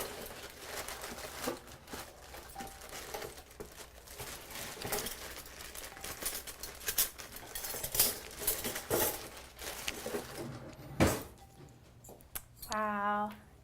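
Silverware and plates clinking and rattling as a dish is served, a run of scattered light knocks and scrapes, with a sharp clatter near the end and voices in the background.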